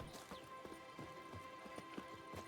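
Horse hooves clip-clop at a steady riding pace in the video game The Witcher 3, a regular rhythmic beat at moderate distance over a faint background hum, with no talking.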